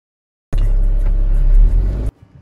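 A small old bus in Uzbekistan rumbles loudly and close for about a second and a half, a heavy low engine roar that cuts off abruptly into quiet.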